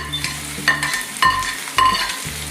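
Bitter gourd seeds and peels fry with onion in a pan for an Assamese stuffed bitter gourd dish: a steady sizzle broken by three sharp, close scraping strokes of stirring, with no voices.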